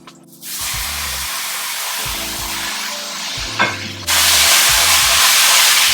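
Pork hits a hot wok and starts stir-frying, giving a steady loud sizzle with scraping stirs, then a sudden louder burst of hissing near the end; no one talks.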